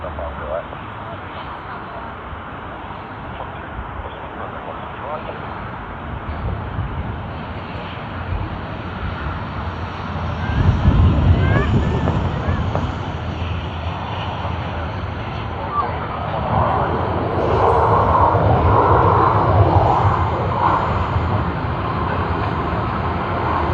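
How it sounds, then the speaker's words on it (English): Cathay Pacific Airbus A350-900 in 80th anniversary livery starting its takeoff roll at Sydney Airport, a steady broad engine roar heard from a distance that swells around mid-way and again later, with people talking nearby throughout. "Takeoff roll has begun."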